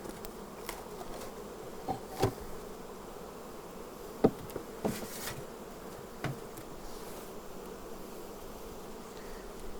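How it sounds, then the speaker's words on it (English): Honeybees hum softly and continuously around an open hive during an autumn inspection outdoors. Occasional light clicks and knocks from handling the frames cut through the buzzing. "Old field bees, fly home."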